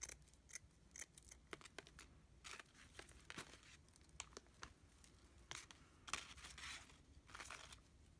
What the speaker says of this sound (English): cut the trims.